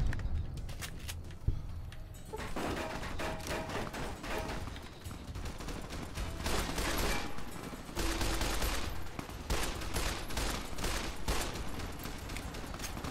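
Rapid gunfire rattles in the video game Fallout New Vegas, dense repeated shots and bursts filling the whole stretch, loud and continuous with little pause.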